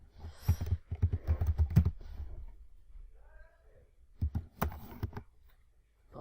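Computer keyboard typing in two brisk bursts of close, crisp key clicks, separated by a quiet pause with a faint tone.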